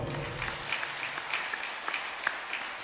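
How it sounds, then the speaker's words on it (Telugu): Audience at a speech event clapping, a brief, fairly faint burst of scattered applause heard from a distance. "ఈ 350 మంది అంబాసిడర్స్కి గట్టిగా చప్పట్లు కొడదాం"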